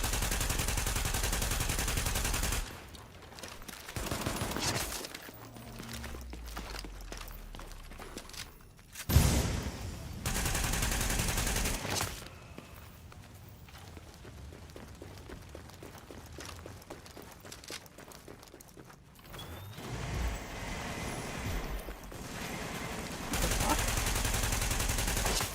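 Gunfire in Tom Clancy's The Division comes in loud sustained bursts, dense automatic fire broken by short lulls and a sharp boom, with rapid shots dominating and little talk over it.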